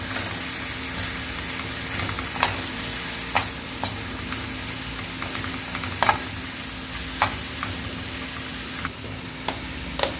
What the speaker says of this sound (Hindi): अब हम ये सारे मसाले डाल देंगे इसमें। इसको मिक्स कर लेंगे